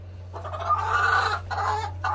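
A rooster recovering from wry neck clucks and murmurs in a short, close, continuous run of throaty calls over a low steady hum, with no talking.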